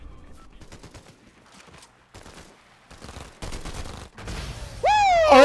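Gunfire erupts in a Fortnite match: rapid bursts of shots crack close and loud, building into a dense exchange, with a rising whine sweeping up at the end.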